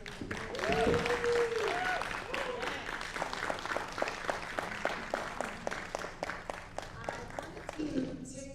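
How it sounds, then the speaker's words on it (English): Applause from an audience at a Black History Symposium opera performance, a steady patter of many hands lasting several seconds, with a voice speaking briefly at the start. "Can we have another round of applause?"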